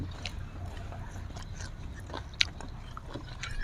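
Someone eats spicy Korean instant noodles with crispy fried chicken up close, soft irregular chewing and slurping with scattered small crunchy bites and one sharper click.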